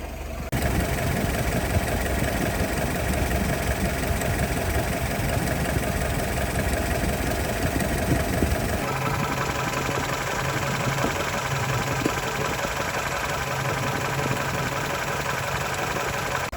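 A Jeep engine, recently repaired after an oil pump leak and with freshly set ignition timing, idling steadily and close by, a continuous even rumble with a slight change in tone midway.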